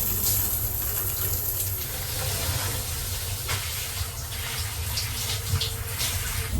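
A shower runs inside a small Amtrak roomette in a steady, close, full hiss of spraying water that holds for several seconds without a break.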